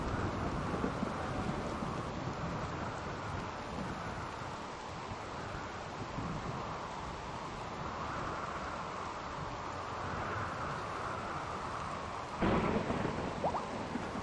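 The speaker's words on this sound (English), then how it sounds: "Rain should stop the fire right here" Rain and thunder in the video game Rimworld: a steady rushing downpour with low rolling rumbles throughout and a sharper crack near the end, with no speech.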